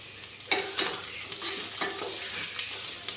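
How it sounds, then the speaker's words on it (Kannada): Onions frying with ginger-garlic paste in a pan for tomato bath, a steady close sizzle broken by a few sharp stirring scrapes, with no talk. "ಈರುಳ್ಳಿ ಚೆನ್ನಾಗಿ ಫ್ರೈ ಆಗಿದೆ"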